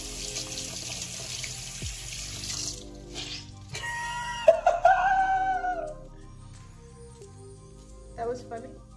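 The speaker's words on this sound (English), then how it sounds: "you're supposed to get the whole sponge wet" A bathroom tap runs to soak a makeup sponge, a hissing stream of water up close at the start, then fading out as people chat and laugh over it.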